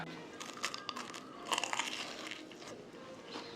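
Faint, crisp crunching as someone bites into deep-fried Jeju hairtail fish at a Chinese hotel restaurant, with a few sharp crackles clustered in the middle against a quiet dining-room background.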